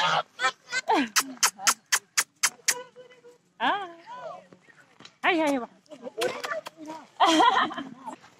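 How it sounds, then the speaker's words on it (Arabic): Geese or ducks honk and quack loudly while being fed by tourists, a quick run of sharp calls followed by scattered honks, with people talking in the background. "وهكذا قمنا بإطعام البط"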